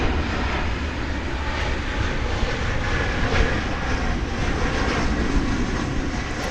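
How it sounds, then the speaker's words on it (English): An Embraer 170 regional jet lands at DFW airport with a loud, steady broadband engine roar that holds throughout, close and dominant with no voices over it. "Got a loud Embraer 170 coming in from Chihuahua in Mexico"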